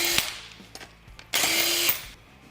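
Power tool, likely an impact wrench, removing the rear wheels of a Can-Am Maverick Sport in short close bursts with brief tonal whines and clicks, then one longer sustained rattling run of about half a second.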